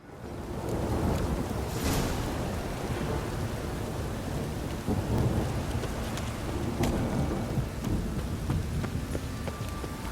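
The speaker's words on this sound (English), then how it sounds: "I like rain. Keeps the rogues indoors." Steady rain pours with low rumbling thunder in The Witcher 3: Wild Hunt, a continuous dense wash of falling water filling the scene with no talk.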